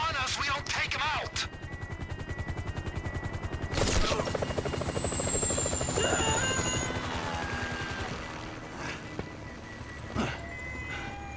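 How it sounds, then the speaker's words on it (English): A helicopter in a GTA game thumps steadily with a rapid rotor chop, loud and close, joined partway through by game effects and bursts of noise, with talk over it. "That chopper's gonna be on us."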